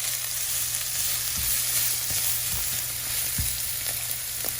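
Garlic, shallots, onions and pickled radish fry in a hot pan for pad thai, a steady close sizzle with a few soft stirring knocks spaced through it.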